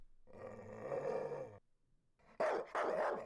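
A human voice imitates a dog for a game sound effect: a sustained low growl, a brief pause, then two short loud barks, close and clear.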